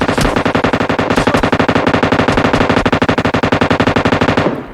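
Rapid automatic gunfire from a PUBG Mobile match rattles continuously for several seconds, loud and close, a dense stream of evenly spaced shots that stops abruptly at the end, with no talking.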